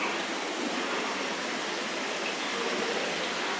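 Water runs continuously through a filtering and recycling water feature inside a plant-filled greenhouse, a dense, steady hiss and splash heard close and unbroken, with no talking.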